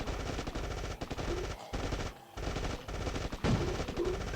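Rapid automatic gunfire in the State of Survival mobile game, dense continuous bursts with brief pauses, loud and close, with no speech over it.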